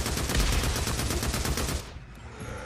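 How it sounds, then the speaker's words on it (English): Rapid automatic gunfire in the video game Days Gone, loud and close with a dense stream of shots that stops abruptly near the end and leaves a quieter game ambience. "A little bit of gunfire."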